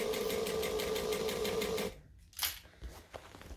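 Sewing machine top stitching a bag, a steady fast needle clatter running for about two seconds, then stopping while the fabric is pivoted, leaving only light handling noises.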